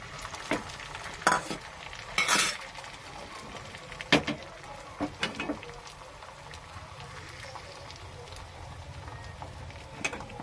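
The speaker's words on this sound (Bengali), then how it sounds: "মিডিয়াম গ্যাস দিয়ে এবার আমি ভেজে নেব সামান্য একটু" Beaten egg mixed with chopped onion and green chilli frying in hot oil over medium gas, a steady sizzle broken by loud spatula scrapes and clatters, with a voice talking over parts of it.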